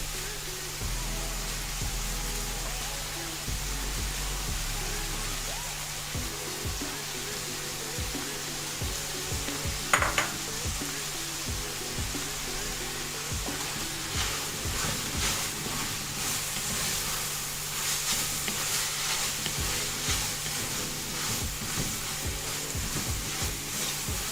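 Shredded cabbage and mixed vegetables stir-fry loudly for chicken chow mein, with a continuous sizzle that runs throughout, punctuated by scraping stirs and a sharp clank near the middle.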